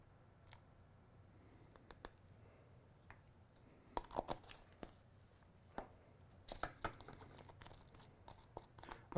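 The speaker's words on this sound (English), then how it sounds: "I'm just stirring these two up because sometimes it helps to disperse the zinc oxide" Powders being stirred together with added zinc oxide, giving soft scraping and crinkly, irregular clicks and taps that are quiet and close, growing busier toward the end, with no talking.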